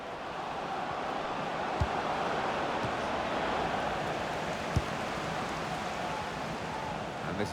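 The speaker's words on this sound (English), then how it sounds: "Just worried about the rain only, in that it's impairing a bit our visibility of the proceedings out there on the pitch." Steady rain falls on a football pitch in the FIFA 18 video game, a continuous hiss of rainfall with a few faint thuds, no voice over it.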